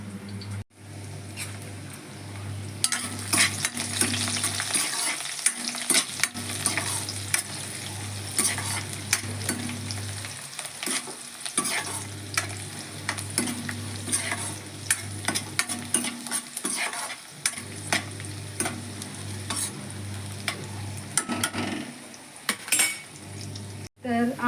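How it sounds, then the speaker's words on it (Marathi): Garlic, dried coconut and onion dry-roasting in a pan for a Konkan masala, with a steady low sizzle and frequent scraping, stirring clinks of a spatula against the metal pan, close and continuous. "लसूण भाजूक द्यायची"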